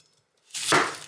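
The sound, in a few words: knife cutting food on a board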